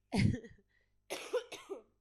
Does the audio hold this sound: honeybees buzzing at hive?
no